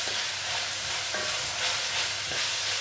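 Chopped garlic sautéing in a pan for a chicken and vegetable dinner, a steady broadband sizzle with a few soft stirring scrapes, close and even throughout, with no talking.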